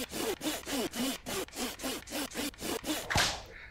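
Wood being sawn by hand in the horror video game The Beast Inside: about eleven steady, rhythmic back-and-forth strokes, loud and close, ending with a sharp snap.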